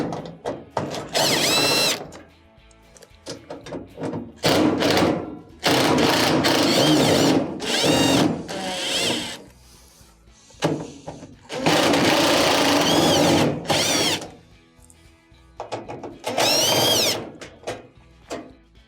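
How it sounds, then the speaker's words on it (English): A power driver whirs in repeated bursts of a second or two, with short pauses between, as Phillips screws are backed out of the front panel of a GE dryer. The whine is loud and close, and no one speaks. "We have a couple of screws that will need to be removed in the front here, all Phillips."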